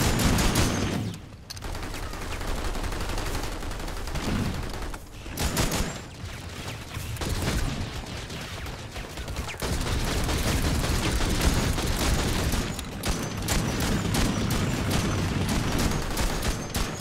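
Video game gunfire rattles almost continuously as dense rapid shots and bursts, loud and close, with only a few brief dips across the stretch.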